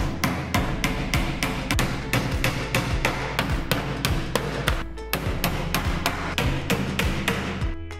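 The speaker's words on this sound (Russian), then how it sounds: "ближайшие к месту смыкания гвозди следует забивать не до конца" Rapid, regular hammer blows drive nails into the back panel of a four-drawer chest of drawers, sharp close strikes repeating about three times a second with only a brief pause midway.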